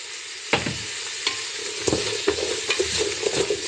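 Onions salted and sweating in a soup pot, a steady moderate sizzle with several sharp spoon clinks and scrapes against the pot, close by, no one talking.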